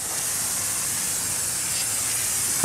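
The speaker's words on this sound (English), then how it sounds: "let me clean it with my brake cleaner" Continuous steady hiss of brake cleaner sprayed onto a wheel hub of a 1997 Buick Park Avenue, close and unbroken for several seconds with no voices.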